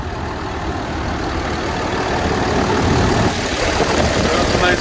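Cummins diesel engine of a 2014 International DuraStar 4300 flat deck truck idling, a steady loud low rumble throughout with no change in pace.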